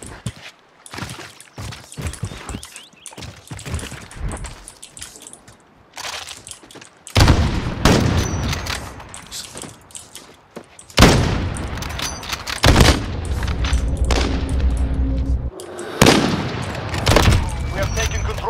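Gunfire and blasts in a one-on-one shooter video game, loud broadband bursts arriving in clusters with sustained stretches of rapid fire, set against background game sounds and occasional voice.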